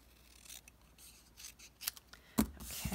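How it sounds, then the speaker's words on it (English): Scissors trim paper for a handmade greeting card, a series of short crisp snips and rubbing cuts close by, growing louder toward the end, with no talking. "Now I'm going to trim this down"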